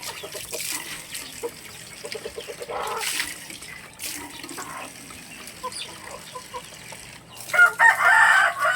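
Backyard chickens at feeding time cluck and crow close by, with a rooster calling and scattered hen chatter, plus a burst of splashing water near the end.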